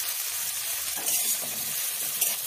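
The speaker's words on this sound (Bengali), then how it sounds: "ভালো করে ভেজে নিতে হবে।" Turmeric, ginger paste and green chilli paste frying in a pan, a steady close sizzle that hisses bright and crackles a little, no voice over it.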